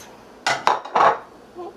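Pull-apart pizza ingredients with cheese and pepperoni get mixed in a bowl, giving a few brief clattering knocks and scrapes of a utensil against the dish, close and short with quiet between.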